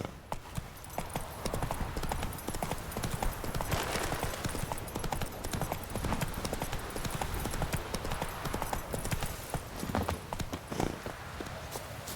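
Roach, Geralt's horse in The Witcher 3, gallops hard with loud, rapid, continuous clip-clop hoofbeats pounding close by throughout, with no talk over them.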